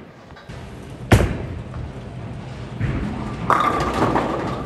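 A Motiv Supra pearl bowling ball rolls down the lane and strikes pins, with a sharp thud near the start and a broad crash of pins later, heard in a noisy bowling alley without talk.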